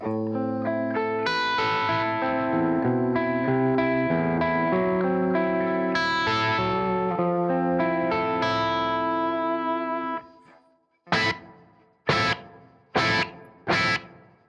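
A clean electric guitar plays a sustained melodic passage bathed in reverb, then four separate strummed chords ring out with lingering tails and pauses between.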